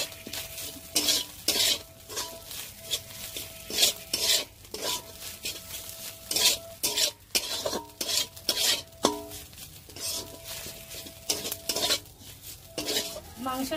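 Chicken pieces stir-fried with ground black pepper and turmeric in a pan, with a spatula scraping and clacking in quick repeated strokes over a steady close sizzle.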